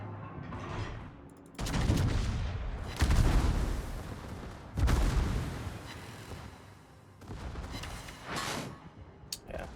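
Secondary guns on the battleship USS Massachusetts fire in World of Warships, with repeated loud booming volleys and crackling bursts that overlap into a continuous rumble of naval gunfire.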